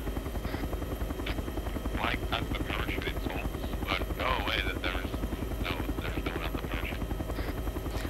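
A Chinook helicopter flies in the video game ArmA 3, its rotors making a close, continuous rhythmic chop. Voices talk over it throughout.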